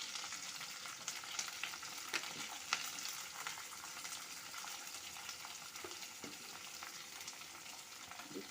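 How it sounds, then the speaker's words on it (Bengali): Chopped cauliflower, beans and onion stir-fried in oil in a village kitchen, giving a steady, dense sizzle throughout with a few sharper spatters and scraping stirs, close and without any talk. "এগুলোকে একসাথে এখন একটু ভালো করে তেলের সাথে মিশিয়ে নেব।"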